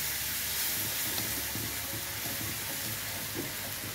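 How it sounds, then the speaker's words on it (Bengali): Milk poured into flour frying in a pan for a sauce, giving a steady, even sizzle and hiss throughout with faint stirring movement underneath. "তো এবার এর মধ্যে দিয়ে দিতে হবে অল্প একটু দুধ।"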